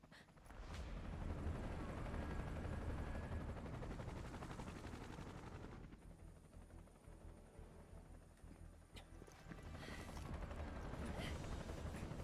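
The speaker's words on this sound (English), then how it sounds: "That's a big plane!" A huge carrier aircraft, like a cross between a big plane and a cargo helicopter, in Final Fantasy VII Rebirth roars continuously with a dense rattling rumble that dips midway and swells again, with faint voices underneath.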